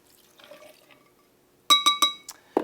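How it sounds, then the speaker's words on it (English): Ice rattles into a mixing glass, with a few faint clinks followed by three or four bright, ringing glassy strikes in quick succession. A short pour of rye whiskey follows. The sound is close and clear, with no voices. "We're going to put a couple scoops of ice in there. Then we're going to add 2 ounces of our Peerless rye"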